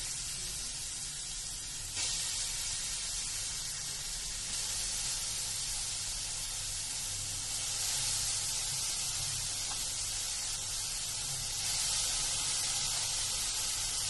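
Grated carrot dropped into hot melted ghee in a pan for gajar halwa, giving a steady bright sizzle and hiss that runs continuously, close and fairly loud with no talking.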